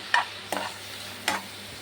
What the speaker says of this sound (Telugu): రొయ్యల్ని నేను కొంచెం పసుపు ఉప్పు వేసుకుని ఫ్రై చేసుకుంటున్నాను